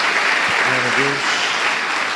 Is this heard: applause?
yes